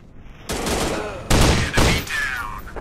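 Rapid bursts of automatic gunfire from a video game firefight, loud and close, with short gaps between volleys and a brief quiet lead-in.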